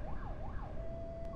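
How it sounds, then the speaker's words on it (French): A video game ambulance siren in a Russian driving setting wails up and down in two smooth sweeps, then settles into a long steady tone, moderately loud over a dense rumble of traffic noise. "Les ambulances russes qui arrivent."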